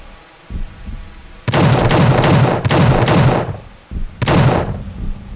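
Loud, close gunshots from the horror shooter The Suffering fire in a rapid burst of about five reports, then a short pause and another single blast, with no talking over them.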